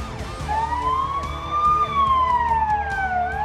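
Fire truck siren at a tunnel fire station, a loud, close wailing tone rising and falling steadily over rumbling engine noise.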